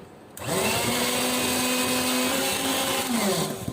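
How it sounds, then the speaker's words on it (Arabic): An electric mixer beats a lemon and mint cheesecake mixture, starting abruptly and running as a loud, steady whirring motor whine for about three seconds before easing off. "هضرب معايا الخليط الجميل ده كده مع بعضه تمام"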